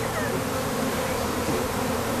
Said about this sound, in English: They're mongrel bees, so I don't know.